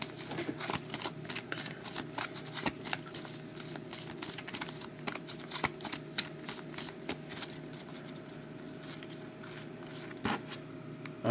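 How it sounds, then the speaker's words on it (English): Rapid, continuous riffling and snapping of trading cards being shuffled up close, a dense crackling texture that keeps going with brief louder flicks. "Let's do a shuffle here."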